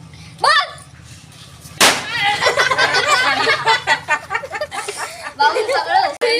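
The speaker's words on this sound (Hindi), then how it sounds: "पटाखे फोड़ रहा है" Firecrackers go off at a village fair with a couple of sharp, loud pops, one near the start and a stronger one about two seconds in, under constant crowd chatter, voices and laughter.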